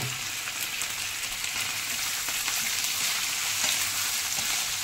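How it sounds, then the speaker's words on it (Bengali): Boiled, drained potatoes hiss as they go into a pan of hot oil with peanuts and chilli, a steady broadband sizzle running evenly throughout, close and fairly loud, no voices. "এই যে সেদ্ধ করে জল ঝরিয়ে রাখা আলু এর মধ্যে দিয়ে দিচ্ছি"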